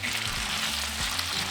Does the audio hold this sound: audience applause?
no